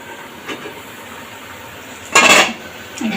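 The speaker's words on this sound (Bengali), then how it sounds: "চলুন ঢাকনা খুলে দেখি কেমন হয়েছে" A lid lifted off a simmering pot of fish curry on the stove gives one brief clattering metallic clink and a burst of hiss, with quiet background before and after.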